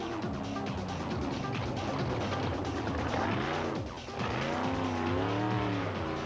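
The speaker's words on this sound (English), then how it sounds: "While Herman Silwalt and Paul Helberg and their Zarko Magnum with a big Chevy engine will again be ruffling a few tail feathers during the season" An off-road racing car, a Zarko Magnum with a big Chevy engine, roars through repeated rising and falling revs with tyre squeal and skidding, loud and continuous, briefly dipping before surging again.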